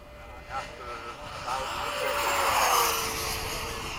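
Model jet aircraft, a 90mm ducted-fan type at a flying field, making a fast pass, its whine rising in pitch and loudness then sweeping away, with people talking nearby.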